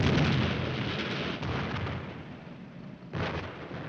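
A tank's 90mm gun fires in a 1951 war film, a loud, dense blast with a long rumbling roar, then a second sharp burst near the end; no talk.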